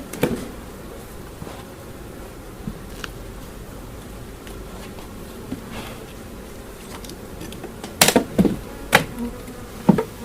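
Honey bees buzz around an opened hive as wet boxes are put back after a honey harvest, a steady low drone with scattered sharp knocks and clatters of frames and boxes, louder near the end.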